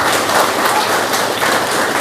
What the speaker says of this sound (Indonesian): Tepuk tangan kamu dong.